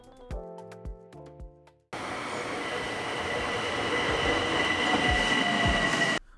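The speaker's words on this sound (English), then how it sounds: "We start our trip on the Long Island Railroad, or the LIRR for short, heading into Grand Central Station on 42nd Street." Long Island Rail Road train heading toward Grand Central, a sudden loud rumble of wheels and car noise that stays steady and close, with faint squeal, after a brief tonal chime at the start.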